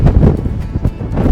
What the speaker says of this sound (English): It's super windy on the other side of the bus.